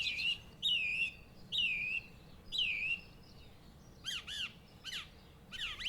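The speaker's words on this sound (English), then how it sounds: "It's absolutely wonderful to be so close to these birds." Birds call outdoors in spring, giving several loud, close, downward squawking calls followed by quicker, higher chirps, each call separate over a faint background hum.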